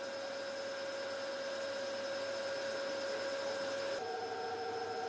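A Jacob Müller MW700 warping machine for elastic threads, with a positively driven unreeling creel, runs with a steady mechanical hum and sustained whine, and the pitch shifts slightly near the end.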